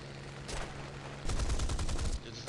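Aircraft guns fire in War Thunder, a lighter burst followed by a sustained rapid volley lasting about a second, loud and close, with engine drone underneath.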